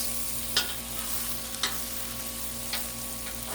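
Wieners sizzle on a Blackstone griddle with a steady, soft frying hiss, broken by a few sharp scrapes and taps of a spatula turning them, close up and fairly quiet with no voices.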